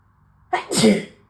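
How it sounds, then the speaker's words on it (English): A single loud sneeze close up, a sharp intake followed by a burst, with silence before and after. "sneeze, hang on."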